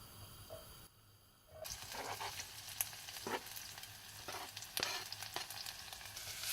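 Onions frying and being stirred in a pan, a soft steady sizzle with scraping stir strokes, quiet at first and then swelling after a brief lull, with no talking.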